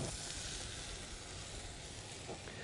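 Paella stock simmering under a lid in a pan of Spanish-style meatless paella with Klondike Gourmet Medley potatoes, giving a steady, even sizzling hiss that stays level and unbroken with no voices.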